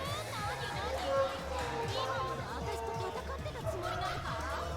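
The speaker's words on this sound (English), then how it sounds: "Crowd's into it." Crowd chatter and excited babble fill a hall at an esports fighting-game tournament, a steady dense hubbub with scattered voices and some background tones running throughout.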